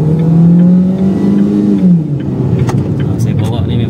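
Proton Saga 1.5 automatic engine accelerating, the revs climbing with a steady droning pitch that then drops as the gear shifts, heard from inside the car.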